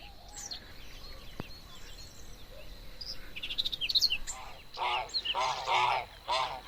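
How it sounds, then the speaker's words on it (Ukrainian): Grazing geese honk and call several times outdoors, the calls growing louder and more clustered toward the end over faint background noise. "Гуси пасуться, бачите?"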